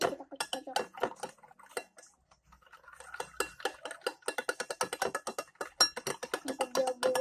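Eggs are beaten in a bowl, with a quick rhythmic run of metallic clinks and taps from a utensil against the bowl, close and moderately loud, with a brief pause partway through.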